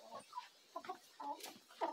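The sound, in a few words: chicken clucking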